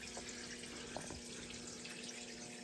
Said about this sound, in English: That was actual water added.